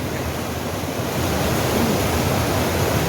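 A waterfall at Yeldari Dam gives a steady, loud broadband roar of rushing water that holds constant and swells slightly partway through, with no voices.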